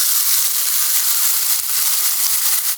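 Marinated skirt steak fajita meat on a grill pan gives off a loud, steady sizzle with faint crackles and spits throughout, and no voices.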